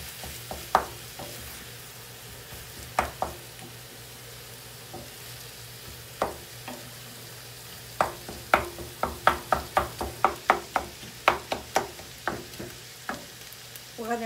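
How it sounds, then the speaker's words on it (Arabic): Food frying in a pan while being stirred, a steady low sizzle broken by a run of sharp, close utensil scrapes and taps that quicken into a rapid burst near the end; no voices. "وغادي نخليهم ان شاء الله حتى يتقلاو."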